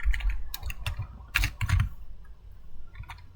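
Quick bursts of clicking keystrokes on a computer keyboard while HTML code is typed, irregular clusters of taps close by with short pauses between.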